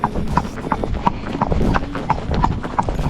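Horse hooves clip-clop steadily on a hard road while hacking out, with a regular rhythm of evenly spaced, close and fairly loud strikes over low outdoor rumble.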